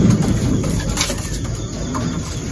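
Racing pigeons coo softly over a continuous low rumble and background noise, their calls faint and partly masked.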